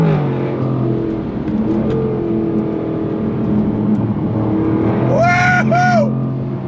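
A 2023 Jaguar F-Type R roaring as it drives, a continuous loud engine drone with two sharp rising revs near the end.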